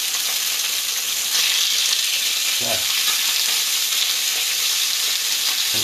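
Chicken pieces fry in a non-stick pan for chow mein, giving a loud, steady sizzle with brief stirring and shifting sounds; a voice speaks one short word.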